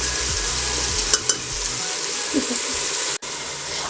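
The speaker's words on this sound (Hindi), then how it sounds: "चिकन जब तक हमारा फ्राई हो रहा है" Chicken frying with ginger garlic paste in a pan for a stew, giving a steady, loud broadband sizzle throughout with a couple of brief stir clicks and a short cut near the end.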